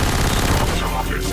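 An MP5K submachine gun fires in a Half-Life mod, a loud, dense burst of rapid automatic shots that fill the whole short moment without a break.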